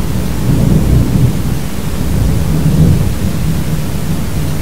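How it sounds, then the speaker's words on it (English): Thunder rumbling during a rainstorm, a continuous low heavy roll with steady rain noise layered on top, loud and close, no voices. "Thunder."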